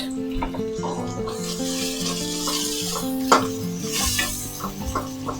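Bay leaves, three pieces of cinnamon and cardamom fry in hot oil for a beef and chickpea lentil bhuna, giving a steady close sizzle with occasional stirring and pan clatter; a voice speaks briefly over it.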